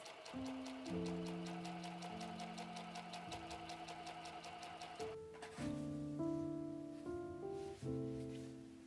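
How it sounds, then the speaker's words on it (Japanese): Sewing machine stitching along a folded woven fabric selvedge while making a bag, a steady mechanical whirr with rapid needle ticking, close and continuous with no voices. "これ3つに折ってここミシンで縫います"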